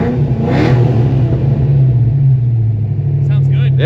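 A 1988 Ford Mustang GT with a small-block V8 and automatic transmission revs loudly nearby, holding a deep, throaty, sustained roar.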